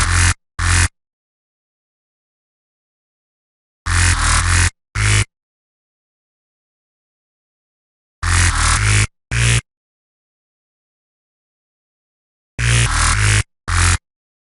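Synth bass patched in NI Massive fires in four short groups of harsh, gritty stabs separated by long silences, loud and dry.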